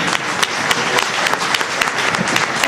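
An audience welcoming a Sicilian singer-songwriter on stage in Gela breaks into dense, steady applause that fills the space with continuous clapping from start to finish.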